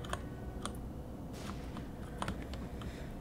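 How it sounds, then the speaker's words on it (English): Computer keyboard typing during a gaming stream of The Binding of Isaac: faint, scattered key clicks over a low, steady background hum, with no talking. "make sure that, like, keyboard noise doesn't bleed into absolutely everything"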